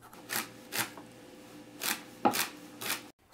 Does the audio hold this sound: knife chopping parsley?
yes